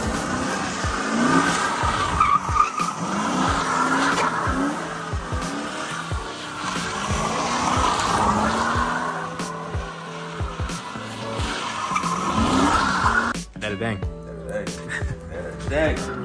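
A C6 Corvette V8 with its muffler deleted does a burnout, loud engine roar mixed with sustained tire squeal and skidding for many seconds, then a sudden cut near the end.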